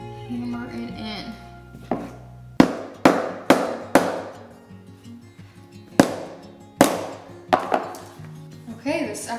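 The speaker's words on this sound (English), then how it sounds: "Put this in and hammer it in." A hammer drives a window screen into the frame of a truck camper, with about ten sharp, close impacts in irregular bursts against a quiet background.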